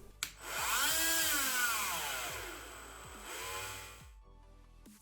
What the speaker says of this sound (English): I'm using this Dremel with the circular cutting tool on it.